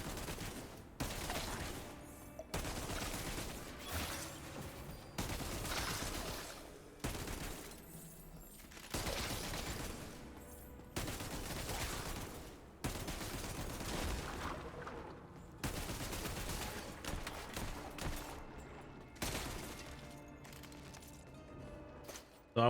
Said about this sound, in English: So now whenever I get a kill with it, it'll do like a plague explosion.